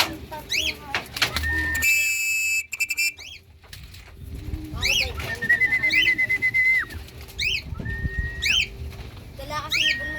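Racing pigeons at a club training session give repeated rising coos and calls, close and fairly loud, in short bursts over a few seconds, with a voice and outdoor background noise mixed in.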